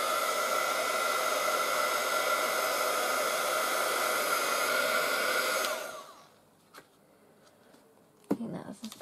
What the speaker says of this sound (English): I think that's as good as we're going to get it with the heat tool.